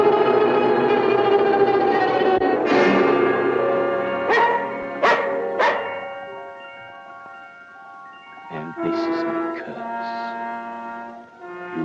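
A dog barks and yelps several times in a 1940 fantasy film soundtrack, loud sharp barks rising over sustained orchestral music, then a drawn-out whimpering howl near the end.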